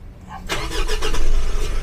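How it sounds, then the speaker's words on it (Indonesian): A 2022 Mitsubishi Triton Exceed manual pickup's engine cranks briefly and catches, rising into a loud, close engine note that settles toward idle. "kita coba untuk starter"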